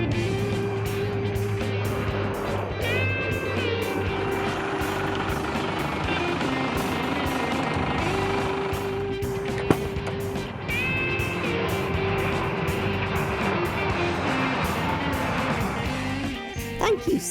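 A taxi drives through town toward the airport, its engine a steady low rumble with road noise and occasional gear-shift changes in pitch, while people talk over it nearly the whole time.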